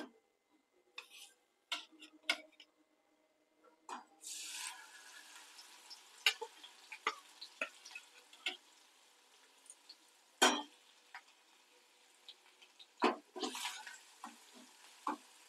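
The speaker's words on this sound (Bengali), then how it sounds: "তেলে এই যে ফেনাগুলো হচ্ছে এটা ক্লিয়ার হয়ে যাওয়ার পরে আমি রসুনটা দিয়ে দিলাম" Garlic dropped into hot oil already crackling with nigella seeds, giving a faint, steady frying sizzle broken by sharp ticks, pops and occasional stirring clatters, heard close with no talk.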